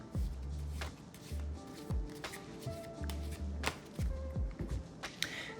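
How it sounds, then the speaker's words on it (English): Playing cards are given a Hindu shuffle, producing a series of crisp, close riffling slaps and soft card pulls in an irregular rhythm, heard alone and fairly quiet. "this shuffle is no different than your regular overhand shuffle"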